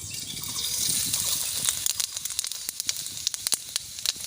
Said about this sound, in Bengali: সরিষার তেলের উপর দিয়ে দেব গোটা কয়েক জিরা